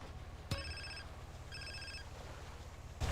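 A telephone rings in GTA San Andreas, two bright electronic trills about a second apart, each a clean repeated tone, with a thump at the start and end and no speech.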